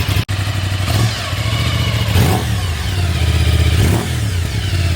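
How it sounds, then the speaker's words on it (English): Brand-new Aprilia twin-cylinder street-legal motorcycle engine, loud and close, idling steadily with a few throttle blips rising and falling, with no voices. "We'll let it warm up and then I'll rev it for you."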